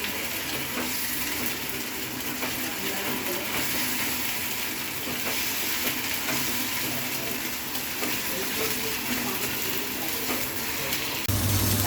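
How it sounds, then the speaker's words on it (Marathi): Onion sautéing in a pan over a medium gas flame for a roasted baigan masala, a continuous crackling sizzle with occasional stirring, steady and fairly close. "व्यवस्थित कांदा परतून द्यायचा लाल होईपर्यंत."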